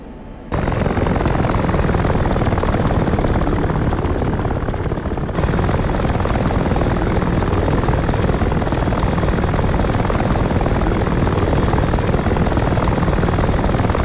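Loud, continuous helicopter rotor and engine roar in the video game Digital Combat Simulator, steady throughout, with a brief quiet start before the noise kicks in.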